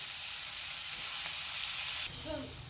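Tomatoes and onions with chillies cook in a pan with a steady, close hiss of sizzling that drops off near the end, where a faint voice can be heard.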